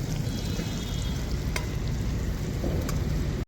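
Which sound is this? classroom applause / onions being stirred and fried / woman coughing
onions being stirred and fried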